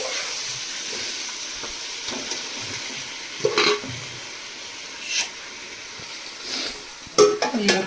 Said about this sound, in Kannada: ಈಗ ಮ್ಯಾರಿನೇಟ್ ಆಗಿರೋ ಚಿಕನನ್ನು ಎಣ್ಣೆ ಒಳಗೆ ಬಿಡುತ್ತಿದ್ದೇವೆ